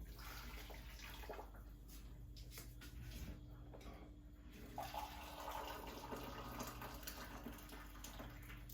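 Water pours from a one-pint jug into a mixing bowl that already holds sugar, for elderflower champagne. The pour is a steady, faint splashing stream that runs the whole time against a low background hum.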